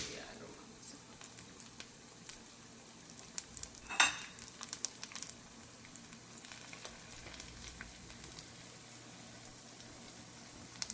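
Turon with jackfruit frying in hot oil, a steady crackling sizzle with sharp spatters and pops, one louder burst partway through, while people chat nearby.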